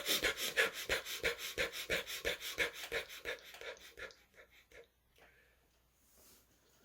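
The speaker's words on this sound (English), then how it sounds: "the burst breathing is simply this" A person demonstrates burst breathing for calming fear in self-defense, with a rapid run of sharp, rhythmic panting breaths close up that slow and fade into quieter, softer breathing before trailing off.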